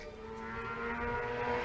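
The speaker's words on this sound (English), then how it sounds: "I'm here with head coach Peter Birds as the motorcycles rip past" Motorcycles rip past beside an outdoor British American football match, a steady, fairly loud engine drone with sustained tones that swell slightly as they go by, with no talking.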